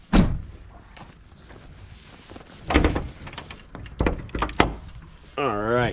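The hood of a VR6 turbo wagon is popped open: a few sharp latch clunks and thuds with mechanical rattles in between, then a brief whirring sound at the end.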